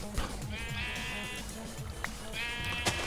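Overlapping bleats from a crowd of sheep in the game Minecraft, wavering baas repeating and overlapping throughout, with a couple of sharp clicks in between.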